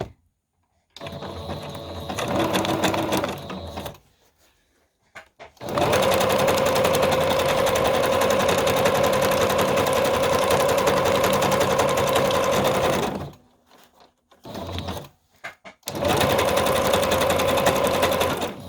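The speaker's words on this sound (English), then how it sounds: "we're going to stop sewing on this piece and with the brown thread" A sewing machine stitches collage fabric with brown thread in three loud, steady runs of whirring, rapid mechanical stitching, separated by short pauses and a few brief bursts.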